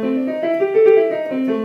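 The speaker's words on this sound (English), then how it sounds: "there's the blues scale again." A piano plays a short run of the blues scale, the blue note included, with sustained tones and clear harmonics moving step by step, close and alone.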